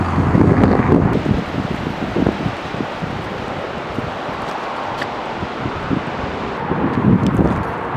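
Strong wind roars and buffets the microphone continuously at a scenic roadside viewpoint, with gusts swelling louder near the start and end, and no voices.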